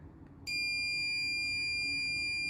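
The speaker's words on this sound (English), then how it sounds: "the alarm will keep going until, even when you remove the object, and the buzzer's pretty annoying" Proximity sensor alarm buzzer sounding, a steady high-pitched electronic tone that switches on abruptly and holds loud and continuous over a low background hum.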